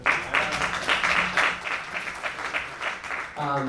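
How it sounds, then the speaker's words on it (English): An audience at a Web3 investor day event gives a round of applause, a dense wash of clapping that swells and fades, with a voice speaking briefly near the end. "Can we get a round of applause for Decasonic?"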